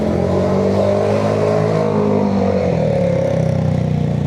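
A loud vehicle exhaust roars past up close on a city street, a steady revving drone that swells and shifts pitch as it goes by, filling the whole stretch with no talk over it.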